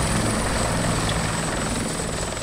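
A helicopter in the military game Arma 2 drones steadily, its rotor and engine making a loud, continuous whir with a faint high whine on top and no voices.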